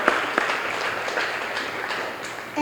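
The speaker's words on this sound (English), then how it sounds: "Please give him applause." Diners at an employee and volunteer recognition dinner applaud a retiring staff member with a soft, steady patter of clapping that opens with a couple of sharper claps up front.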